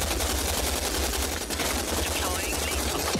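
Dense, rapid gunfire crackles continuously in the shooter game Rogue Company, with shotgun blasts among loud overlapping shots that fill the whole moment.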